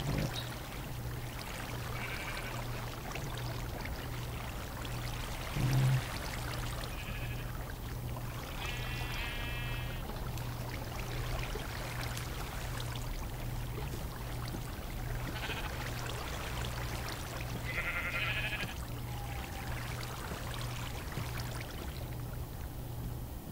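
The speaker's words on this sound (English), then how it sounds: "those sheep were really annoying" Sheep bleat in the Minecraft video game, several short bleats recurring every few seconds over a steady droning game background with a low hum.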